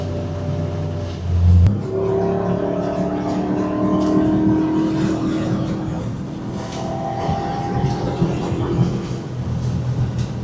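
A 1992 Mercedes SL500 engine revs up toward its 6,000 rpm redline with rising, strained tones over a steady rumble, pulling hard and staying loud throughout.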